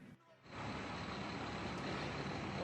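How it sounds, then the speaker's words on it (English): National Guard trucks idle in a city street, making a low, continuous engine hum and rumble that swells in after a brief quiet start and then holds steady in the background. "That humming noise is actually National Guard trucks."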